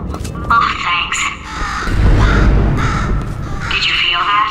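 A bird caws a few times in Portal 2, harsh calls near the start and again at the end, layered over a low rumbling game ambience.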